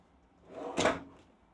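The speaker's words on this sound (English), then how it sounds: "That's a soft closing drawer" A soft-closing drawer in a 2025 Crusader Lifechanger Bunkie fiberglass family caravan slides shut with a brief, quiet whoosh and a gentle muffled thud, heard alone.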